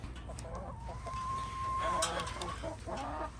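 Chickens cluck near a coop, with several short calls and one drawn-out squawk in the middle set against a faint outdoor background.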